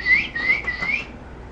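A bird in a Cambodian jungle gives a single clear whistled call, about a second long, wavering slightly in pitch, fairly close and with no talk over it.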